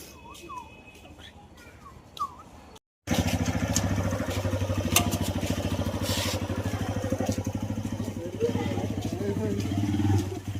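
A motorcycle engine runs close by at a steady, loud idle or low cruise with a rough, throbbing rumble that starts abruptly after a short quiet stretch of faint background and bird-like chirps, with some voices in the background.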